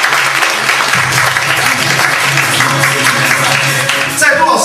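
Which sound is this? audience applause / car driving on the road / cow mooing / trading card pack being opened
audience applause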